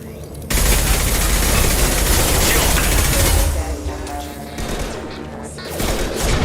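Sci-fi combat in Mass Effect 2 erupts into a dense burst of loud, close gunfire and heavy impacts, then thins into scattered shots and clatter.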